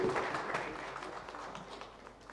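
At a credit rating conference in Nairobi, a fairly faint patter of audience clapping sends panelists off the stage, briefly mixed with a voice early on and gradually fading.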